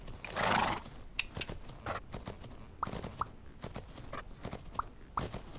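A horse canters at a slow pace in the video game Fernhoof Grove, with a loud snort or whinny near the start and then a scattered series of close hoof beats and soft thuds.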